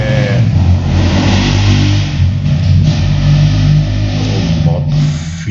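Motorcycle revving as it passes in the street outside a home, a loud, close, throaty engine roar that holds strongly and then eases slightly toward the end, heard alone without talk.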